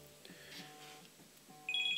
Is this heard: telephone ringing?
yes